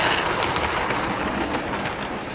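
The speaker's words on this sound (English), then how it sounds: "we see the M7 pulling 3 of these Southern Region coaches" A Hornby SR M7 model tank locomotive hauls three Southern Region coaches, giving a steady close whirring rumble with soft rail clatter and no talk.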